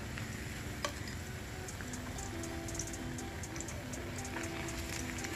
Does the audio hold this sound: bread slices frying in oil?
yes